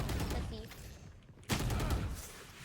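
Gunfire in the tactical shooter Valorant, a dense broadband burst of shots early on, a short lull, then another loud volley from about 1.5 seconds, with faint talk mixed in.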